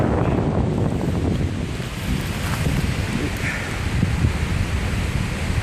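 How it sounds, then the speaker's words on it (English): Strong wind roars steadily through trees at a tree-removal site in Vancouver, Washington, a dense, continuous rushing noise with gusty swells and buffeting against the microphone throughout. "This wind keeps going. It's not gonna end."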